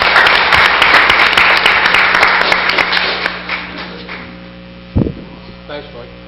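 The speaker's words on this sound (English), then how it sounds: "give you a round of applause on that" Loud applause fills a council meeting room, then fades over a few seconds into a quiet hum, broken near the end by a single sharp thump.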